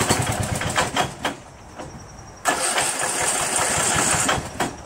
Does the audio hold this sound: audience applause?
no